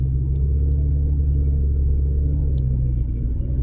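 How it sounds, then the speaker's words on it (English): A 2015 Toyota RAV4 engine hums as a low, steady interior rumble, with a slight shift in tone as the transmission changes gears. "Oh, it's switching gears."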